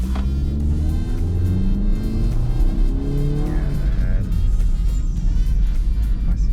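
A compact MPV, a Suzuki Ertiga Hybrid, Toyota Veloz or Mitsubishi Xpander-class people carrier, pulls hard from low speed on a test drive, its engine rising steadily in pitch with a loud, close cabin rumble and a brief voice over the top.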